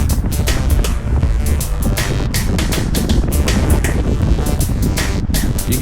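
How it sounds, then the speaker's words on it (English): Steady wind rushes over the microphone on a motorcycle ride near Lake Conroe, with a constant loud roar and buffeting gusts throughout. "You can hear the wind."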